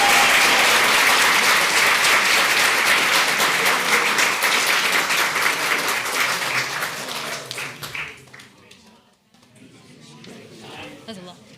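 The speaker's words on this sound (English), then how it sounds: "Please join me in a round of applause for our 25-26 regional and state honor musicians." Audience at a school district board meeting applauds regional and state honor musicians with a sustained, loud burst of clapping that tapers off after about eight seconds, leaving scattered claps and murmuring voices.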